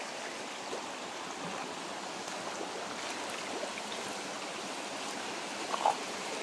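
A mountain river rushes over rocks in a steady, broad wash of flowing water, moderately loud and continuous, with a brief small splash near the end and no voices.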